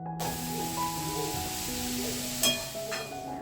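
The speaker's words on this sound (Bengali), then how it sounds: "এরকম গ্রেট করা গাজরগুলোকে দিয়ে এটাকে বেশ ভালো করে আমি নাড়াচাড়া করে নিচ্ছি" Grated carrots stirred in hot white oil for carrot halwa, a steady soft sizzle with occasional scraping and clinking of the utensil against the pan.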